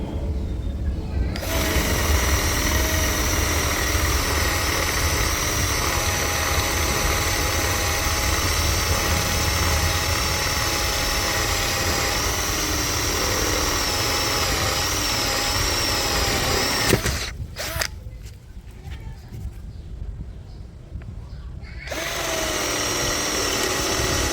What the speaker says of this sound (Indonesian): Berikutnya saya menggunakan mata bor Forstner Bit dengan diameter 25 mm.